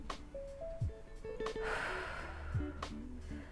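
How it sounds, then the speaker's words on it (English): A single deep, drawn-out breath during a Pilates leg-extension stretch, a soft, airy rush near the middle, heard close over quiet tonal background music, with no talking. "Take a deep breath here."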